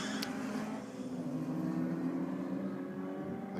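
A Ford Falcon and a Toyota Corolla race in roll drags, heard as a distant sustained engine drone that rises slowly in pitch as they accelerate, faint and steady with no voices.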